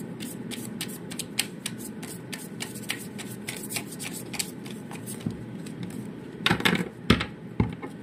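Tarot cards are shuffled by hand in quick, close riffling bursts, ending with a few louder slaps as cards are drawn and laid down.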